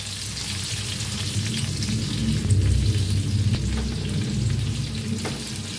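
Stuffed capsicum peppers fry in oil in a pan and are stirred, giving a steady close sizzle with scraping stir noises and a few sharp clicks.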